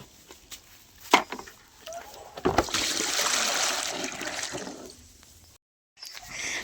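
Water is poured over a goat's back to cool it in the heat. A few drips and splashes lead into a sustained rushing, splattering pour lasting a couple of seconds, then the sound cuts briefly to silence.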